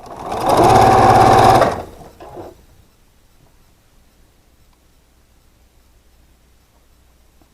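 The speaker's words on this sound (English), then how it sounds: "we'll take them to the machine and sew them" A sewing machine stitches quilt block pieces in a fast, even mechanical whir for about a second and a half, close and loud. A short rustle follows, then near silence.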